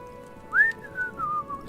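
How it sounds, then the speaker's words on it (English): A character whistles in the video game Hytale, a short rising note that then falls in a few wavering, gliding phrases, close and clear over a quiet steady background hum. "See, now I can whistle. Now we got a perfect time to do some whistling."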